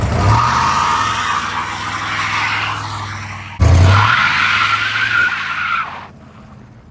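A 1968 Pontiac GTO with a 400 V8 and three-speed does a burnout. Loud, close tire squeal and roaring engine run in two long bursts before fading to a quieter rumble, with no talk.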